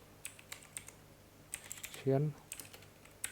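Code is typed on a computer keyboard in light, scattered clicks at an irregular pace, with one louder, longer key press in the middle; a low hum runs underneath and nobody speaks.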